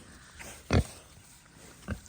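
Pigs rooting in a forest after rain grunt in two short, fairly close bursts separated by a quiet stretch of outdoor background.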